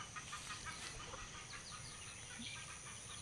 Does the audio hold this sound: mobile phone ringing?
no